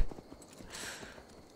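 Horse hooves clip-clop at a quick, steady trot in the Assassin's Creed Valhalla video game, fairly faint, with a soft whoosh of wind or movement in the middle.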